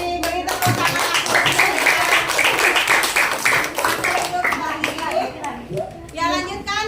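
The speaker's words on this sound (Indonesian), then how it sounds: "Beri tepuk tangan aku." A school class in an Indonesian teaching-practice lesson claps hands together in a quick burst, mixed with children's voices and chatter throughout, close and fairly loud.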